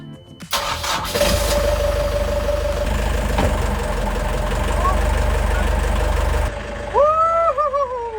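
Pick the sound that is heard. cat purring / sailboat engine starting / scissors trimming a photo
sailboat engine starting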